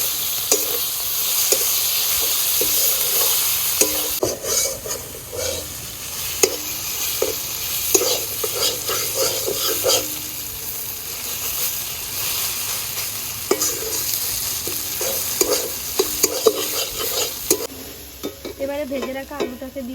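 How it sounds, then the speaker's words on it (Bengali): Leafy greens go into a pan of fried onion and garlic and are stir-fried, with a loud, close, continuous sizzle and repeated scraping and stirring throughout; no one speaks. "পেঁয়াজ রসুনটা একটু ভাজা হয়ে গিয়েছে, এবার এর ভিতরে শাকটা দিয়ে দিচ্ছি।"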